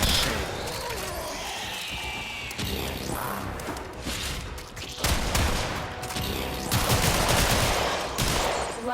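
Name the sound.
shotgun firing in video game Warframe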